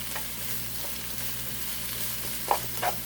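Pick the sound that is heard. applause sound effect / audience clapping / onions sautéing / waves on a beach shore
onions sautéing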